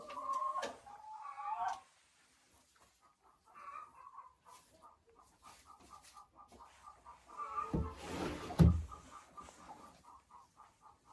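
Hens cluck in a henhouse nest box, with soft scattered clucks and calls through most of the stretch, a louder burst of squawking and rustling near the end, and a rooster-like call at the start.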